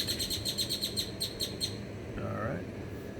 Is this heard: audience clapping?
no